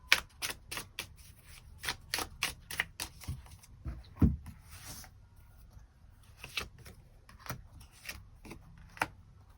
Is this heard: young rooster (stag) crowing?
no